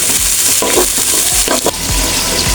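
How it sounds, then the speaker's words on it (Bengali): Cumin powder and dried chilli powder sautéing in a pan for bhuna khichuri, giving a steady close sizzle broken by stirring scrapes and knocks throughout, with no talking. "একে একে আমি ভালো করে মশলাটা আবার ভালো করে কষিয়ে নেব।"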